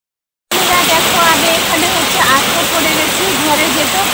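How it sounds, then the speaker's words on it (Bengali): Heavy rain pours steadily outdoors by a house during a flood, a dense, loud, continuous hiss that starts abruptly and stays constant, with someone talking over it. "তো দেখা যাক কখন বৃষ্টিটা কমে, বাড়ির বাইরে বসে আছি।"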